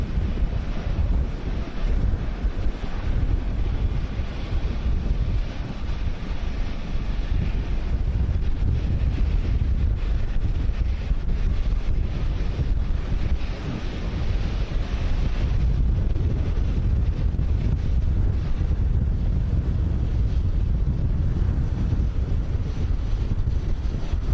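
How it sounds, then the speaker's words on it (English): Strong wind gusts at Manchester Airport buffet the microphone with a dense, loud roar that rises and falls over many seconds. There is no talk. "TAF showing gusts of 38 knots"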